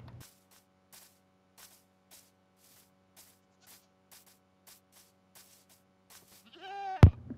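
In Minecraft, a goat lets out a short bleat near the end after a quiet stretch of soft, regular game ticks and faint footsteps.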